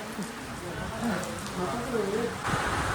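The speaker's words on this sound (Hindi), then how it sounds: "आज देख सकते हो कि बारिश कितनी तेज़ हो रही है और ऊपर से ठंडी हवा भी चल रही है।" Heavy rain driven by a cold wind at an ashram on the Narmada Parikrama route, heard as a steady, dense hiss that swells and eases slightly, with faint voices underneath.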